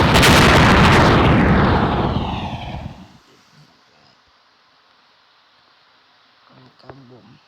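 Bombs go off in a fireworks video game: a loud, dense boom opens the clip and decays over about three seconds into near silence, followed by a faint crackle near the end.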